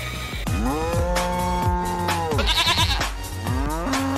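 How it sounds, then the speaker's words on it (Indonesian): Several drawn-out bellowing moos from cows, loud and close, overlapping one another with a few shorter calls between, as they are loaded onto a truck. "Ada induk sapi warna kuning teman-teman"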